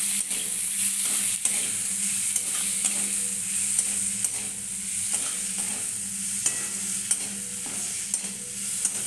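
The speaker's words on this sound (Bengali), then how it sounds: "এটা একটু ভালো মতন কষিয়ে নেব।" Okra sizzles while it is stir-fried with salt in a pan. A constant hiss runs under a regular rhythm of scraping spatula strokes and small clicks against the pan.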